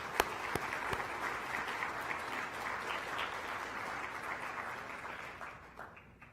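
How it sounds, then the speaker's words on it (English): Audience at a workforce convening gives sustained applause, a dense, even wash of many clapping hands in a large room that holds steady for several seconds before tapering off. "Let's give her one more round of applause."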